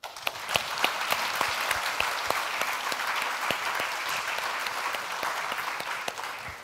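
Audience applause for mentors at a youth hackathon in Munich, a steady dense patter of many hands clapping, fairly even and moderately loud throughout, with a few sharper individual claps standing out.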